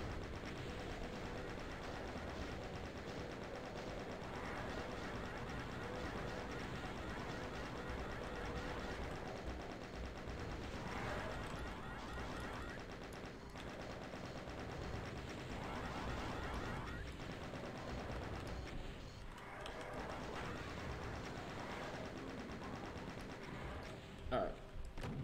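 Rapid chain gun fire in the shooter Doom 2, repeated bursts of mechanical shots mixed with game sounds and someone talking over the action throughout.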